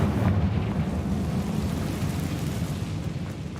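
A Confringo blasting spell explodes in Hogwarts Legacy: a loud, sustained, rumbling roar of fiery blast noise that fills the whole clip with deep, broad energy and no voices.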